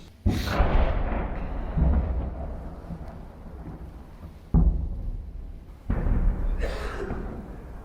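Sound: explosions

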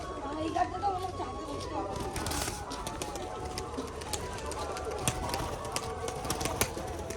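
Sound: pigeons cooing

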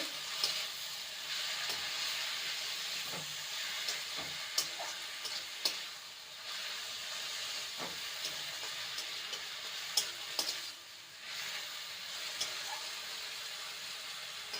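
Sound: stirring jute leaves with turmeric in a frying pan

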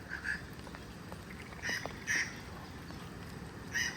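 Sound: bird calling

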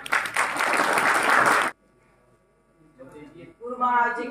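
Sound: applause at a temple gathering

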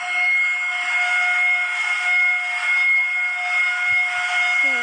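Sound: train whistle in a video game

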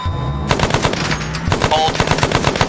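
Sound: general purpose machine gun fire

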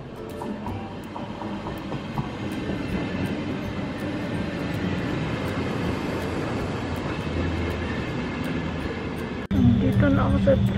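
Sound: train in Germany departing

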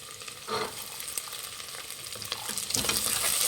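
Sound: green peas being fried and stirred with onions for tomato bath

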